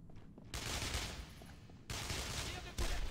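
Sustained covering fire crackles in Brothers in Arms: Road to Hill 30, dense overlapping rifle and machine-gun shots rolling in loud waves that surge and ease over a few seconds.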